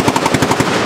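Rapid bursts of automatic gunfire at a firearms gathering, about ten loud close shots in quick rhythm, alone without talk.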